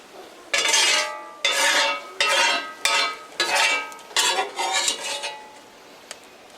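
Potatoes scraped and tipped into a pan with a utensil, giving about seven separate bursts of clattering and scraping at an uneven rhythm, close and fairly loud, with a faint click near the end.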